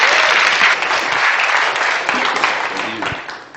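Loud, sustained applause from a lecture audience welcoming Professor Naomi McClure Griffiths at ISS2015, dense clapping with scattered cheers that tapers slightly toward the end.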